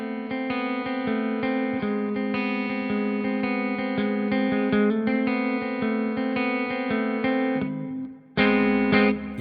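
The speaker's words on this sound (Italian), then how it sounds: "Il riverbero ha semplicemente il controllo del volume ed è un riverbero di tipo plate." A distorted synth melody plays through the plate reverb of the APFX Primo plugin, sustained loud chords with a smooth lingering tail, briefly dropping out near the end before returning.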